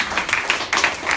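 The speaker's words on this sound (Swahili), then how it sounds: "Hebu pigia Bwana makofi makubwa." A church congregation claps loudly for the Lord during a bishop's question-and-answer session, a dense, brief wash of many hands, close and steady for about a second.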